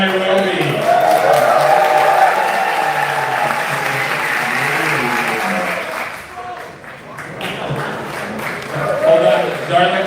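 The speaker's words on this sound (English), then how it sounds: "people were giving such a loud round of applause here in the room" A loud, sustained round of applause fills a room during a voting ceremony, dense clapping going on for about ten seconds, dipping briefly before swelling again, with voices mixed in.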